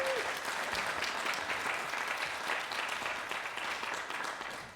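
A church congregation applauds the music team in a steady, dense wash of clapping that holds for several seconds and tapers slightly at the end, with no talk over it.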